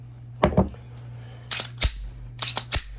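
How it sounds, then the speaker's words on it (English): A Glock pistol magazine released and dropped out, giving a few sharp metallic clicks and clacks, close and clear, spread over a few seconds with short gaps between them. "So we're gonna go ahead and drop that mag out."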